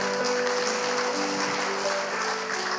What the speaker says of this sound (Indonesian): Wow, sorak-sorai untuk Tuhan.